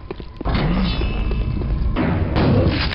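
A heavy thud as the player character falls in the VR shooter Quake VR, a low dull impact rising out of quieter game ambience and sustained under ongoing game noise, with a second burst of rumble near the end.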